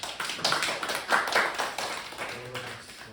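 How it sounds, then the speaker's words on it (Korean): A small group claps together, the applause rising and fading over a few seconds with a light, scattered texture. "박수 합시다."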